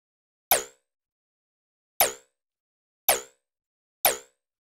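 Four short synthesized digital UI blips with a sharp attack and pitch envelope, each a bright plopping hit with a quick decay, spaced irregularly over silence.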